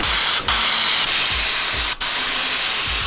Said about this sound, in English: we're gonna shoot all this with some liner so everything is nicely finished back here